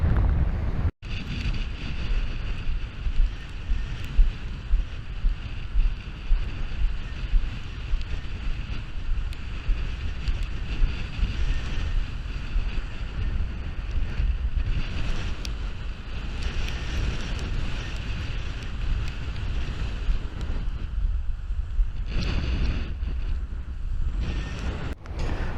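Strong wind buffeting the microphone on Lancing Beach during surf fishing, a constant roaring rush with gusty swells and distant surf beneath, no voices.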